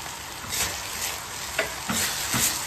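Chicken masala frying uncovered in a pan, Indian home style, gives a continuous crackling sizzle with a few light clicks and stirring scrapes close by.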